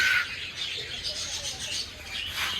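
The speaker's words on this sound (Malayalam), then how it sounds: "ഇതിനകത്ത് കുറേ പ്രാവ് പോലെ ഇത്തരം കിളികളൊക്കെ ഉണ്ട് കേട്ടോ" Pigeon-like birds chirp and call amid a steady airy hiss at Udayagiri Fort, fairly faint and continuous, with no one speaking.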